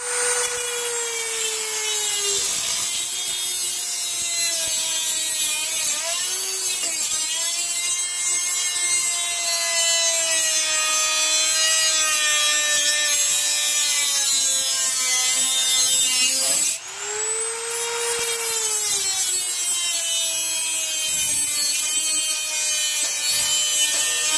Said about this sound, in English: I'll use my little Dremel, tear about 20 blades here too